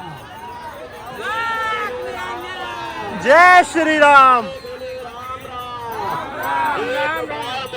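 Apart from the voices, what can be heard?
huge crowd of pilgrims at the Prayagraj Mahakumbh ghat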